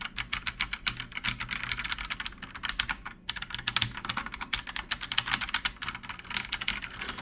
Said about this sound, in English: let's test out the actual keyboard noise